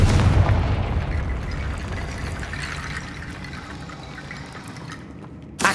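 A Confringo blasting spell exploding in Hogwarts Legacy, a heavy boom up front that fades into a long rumbling, crackling decay, with a small new hit at the very end.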